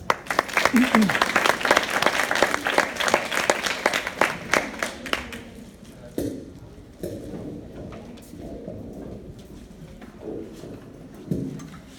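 An audience applauds to welcome a speaker at a talk on social skills and problem-solving assessment; dense clapping fills the first five seconds, then fades to scattered claps as a voice begins speaking.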